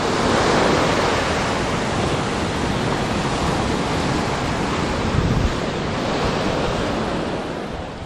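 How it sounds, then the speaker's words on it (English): Ocean surf rolls steadily onto a sunny beach on the eastern side of Kauai, Hawaii, a broad continuous wash of breaking waves with light wind, loud and close, with no voices. "An absolutely beautiful day on a sun-drenched Hawaiian beach."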